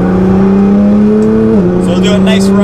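A Nissan GT-R cruising on back roads produces a loud, steady engine drone that dips slightly in pitch partway through, with road rumble underneath and no talk.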